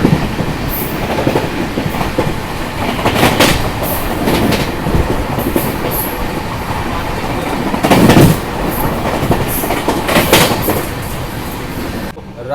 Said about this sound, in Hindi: डिब्रूगढ़ राजधानी एक्सप्रेस और सियालदह राजधानी एक्सप्रेस का भाई ताबड़तोड़ क्रॉसिंग